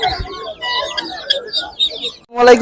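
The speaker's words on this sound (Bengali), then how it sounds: "এখানে কিছু মুরগি এগুলা কি জাতের" Hill-breed chickens at a busy livestock market cluck and call repeatedly at close range, with a louder burst near the end over general market noise.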